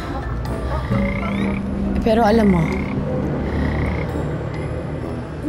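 Repeated frog croaks, including a warbling call, sound over steady outdoor background noise, with a brief spoken phrase in between.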